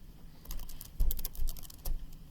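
Quick, light computer keyboard keystrokes tap out a short search phrase, a handful of crisp clicks close to the microphone with a few heavier key presses mixed in.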